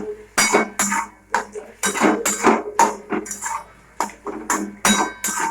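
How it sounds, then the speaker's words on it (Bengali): A metal spoon clinks and scrapes against a cooking pot in irregular bursts while stirring tomatoes simmering with mustard and poppy seed paste. The sharp, close knocks are separated by short pauses. "জলটা টেনে গেছে, টমেটোগুলো একটু ঘেটে দেবো।"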